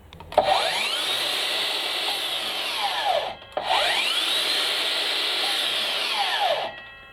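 A Makita DLS111 36V cordless mitre saw fitted with a Makita blade cuts through wood in two long, loud passes, each rising to a steady high whine with a brief quiet gap between them.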